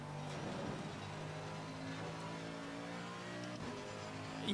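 Engine of a Ferrari GT race car in Assetto Corsa Competizione accelerating out of the Acqua Minerale corner, a faint steady engine drone with rising revs through several seconds.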